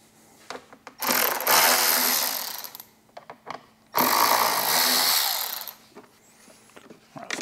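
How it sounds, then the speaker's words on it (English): A power drill backs out a couple of screws during a Harley-Davidson speaker install with Infinity Kappa speakers, two long loud whirring runs broken by clicks and small handling knocks, close by and without talk. "I'm gonna take a couple of our screws out here so you can get a better view"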